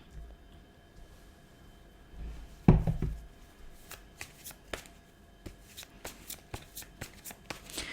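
Cards are shuffled and laid out for a tarot-style card reading, a sharp thump followed by a run of crisp riffling and snapping card strokes, close and fairly quiet in a still room.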